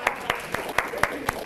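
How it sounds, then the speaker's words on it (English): A few hands clap in an even, brisk rhythm at a staff orientation, six sharp claps heard nearby and moderately loud. "Give her a round of applause."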